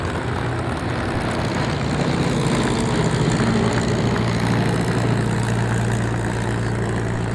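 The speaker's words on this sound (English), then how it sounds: "Mustangs on frequency, taxiing back." A P-51 Mustang propeller fighter taxis at the Duxford air show, its piston engine giving a loud, continuous, throbbing drone that holds steady throughout at close range.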